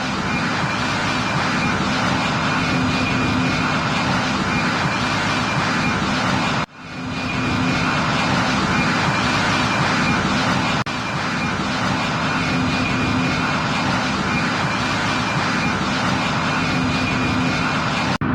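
A large airliner climbs toward cruising altitude, a loud steady engine roar heard from inside the cabin, continuous throughout with one brief dip partway through.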